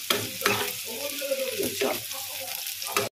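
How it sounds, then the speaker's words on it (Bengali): Chopped onions, three large ones, fry in oil for chicken do pyaza with a close, steady sizzle, and a few stirring scrapes cut through it before it stops abruptly at the end. "বড় সাইজের 3টে পেঁয়াজ কুচি করে নিয়েছি, আর সেটাকে একটু এখন ভেজে নিচ্ছি"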